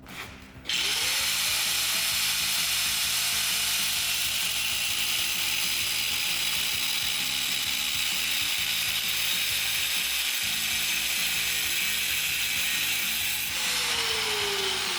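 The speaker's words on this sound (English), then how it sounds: "we're going to grab our grinder with our cutoff wheel, and we're actually going to cut down that line just a little bit" An angle grinder fitted with a cutoff wheel spins up and cuts a line into metal before welding, a loud, sustained high whine with gritty cutting noise that winds down at the end, no voices.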